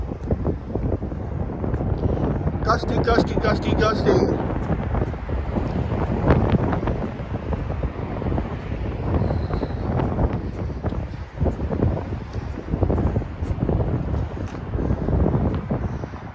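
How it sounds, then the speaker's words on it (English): Strong gusty wind buffeting the microphone during an outdoor night walk in town, a loud continuous low roar with rising and falling gusts and no talking. "Gusty."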